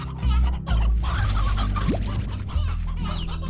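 Roosters in the Slime Rancher video game cluck and squawk in a steady stream over a dense game backdrop, close and fairly loud, with a short rising squeal partway through.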